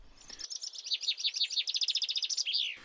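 A male chaffinch sings one clear, bright song phrase of rapid descending trills that ends in a flourish, heard close and alone over a quiet outdoor background.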